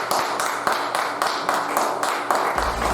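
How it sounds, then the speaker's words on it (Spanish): Congregation in a Spanish-speaking church clapping in rhythmic unison, steady beats roughly every quarter second blending into a broad wash, moderately loud with faint voices and a low hum underneath. "Den la ofrenda de palmas al Señor ahí"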